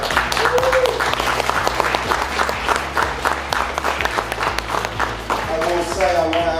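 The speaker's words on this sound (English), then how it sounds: "I think that deserves a big round of applause." A crowd claps and cheers after a boxing match between Andrew Tate and Chase DeMoor. The applause runs under a loud, reverberant arena mix with a voice speaking over it.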